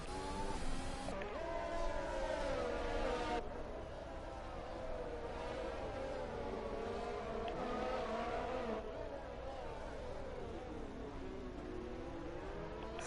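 Race cars at the Monaco Grand Prix in a racing game whine steadily at high revs, several engines blending into a continuous drone, with a commentator talking over them throughout.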